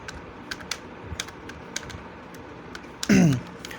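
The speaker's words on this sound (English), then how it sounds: "So we are going to type center over here" Typing on a computer keyboard during a school computer science practical, heard as a string of sharp, sparse clicks and keystrokes at moderate distance, closing with a louder burst of clatter.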